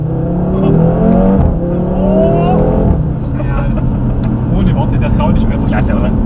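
A 2016 Audi TT RS with its 2.5-litre five-cylinder engine of 400 hp and quattro drive revs loudly up and then settles. The engine note rises in pitch and runs under someone talking nearby, with a busier rasping exhaust tone after the peak.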